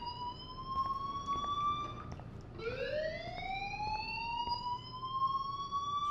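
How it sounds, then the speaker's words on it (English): A school fire alarm sounds in the video game Life Is Strange, a steady electronic siren-like tone that holds, drops sharply midway and sweeps back up, ringing continuously over faint background ambience. "Hey, do you hear that fire alarm?"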